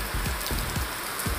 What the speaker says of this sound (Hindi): दोस्तों तेज बारिश शुरुआत हो चुकी है